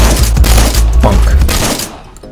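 Video game shotgun fire, a loud close burst of rapid overlapping blasts that runs for about two seconds, then cuts off into near quiet.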